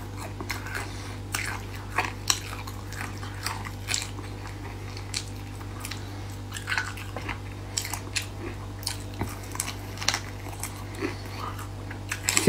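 Braised chicken feet being gnawed and chewed close up, with steady soft biting, squishy chewing and small crunches repeating over a low constant hum, no talking.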